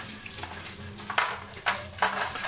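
Metal barbecue skewers and a grill grate being washed, with a few sharp clinks and scraping knocks over running, splashing water, close and fairly quiet.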